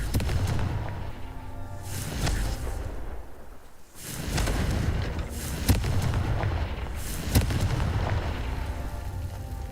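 A Confringo fire spell bursts repeatedly in Hogwarts Legacy: heavy booming blasts with deep rumbling tails, one every couple of seconds, loud and close, over a constant low rumble.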